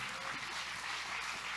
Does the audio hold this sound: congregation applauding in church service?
yes